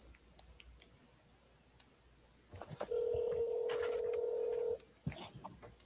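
A telephone is dialed: a quick series of touch-tone beeps, then a steady, loud dial or ringback tone lasting about two seconds, with faint room noise around it.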